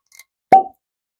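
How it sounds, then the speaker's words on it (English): A single sharp, close pop as the cork comes out of a freshly opened, new Wild Turkey whiskey bottle, with a faint squeak just before it. "decent cork pop."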